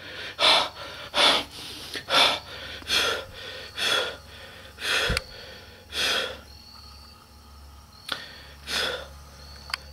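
A character in the video game DeadLine breathes heavily, with about a dozen loud, regular gasping breaths in a steady rhythm, close and alone.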